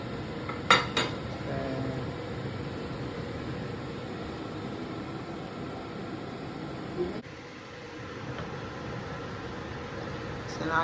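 A utensil stirs a tomato mixture in a pot. A couple of sharp clinks come near the start, then a steady, faint scraping churn runs throughout over a constant background hiss.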